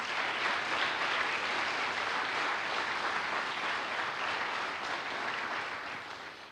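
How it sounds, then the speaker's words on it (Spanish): A church congregation applauding loudly and continuously, a dense wash of many hands clapping together that holds steady before tapering slightly at the close. "Dale un fuerte aplauso al Señor"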